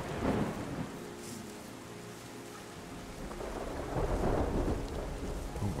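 Thunder rumbles in a rainy storm within the video game Terra Nil, with low rolling booms swelling twice over a steady hiss of rain, moderately loud and continuous.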